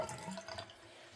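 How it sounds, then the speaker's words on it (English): Tap water running steadily after the supply valve is opened during an old toilet replacement in a house, a soft continuous trickle with faint drips. "then turn on some water"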